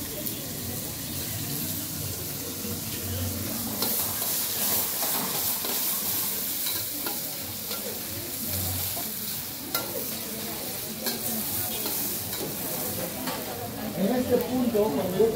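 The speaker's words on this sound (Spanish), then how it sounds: "Cuando ya tengo frito ya las carnes de chorizo y de cecina" Chorizo and cecina meat frying in a pan for a Mojadito Amazónico rice dish, giving a steady close sizzle throughout with faint stirring, occasional light clinks and some low background noise.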